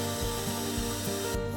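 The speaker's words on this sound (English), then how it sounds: "We're using an electric beater, but you could also use a power drill with one of these attached to it." A cheap electric mixmaster running off a car's 12-volt system whips cream while camping, producing a steady mechanical motor whir with a faint repeating rattle every third of a second.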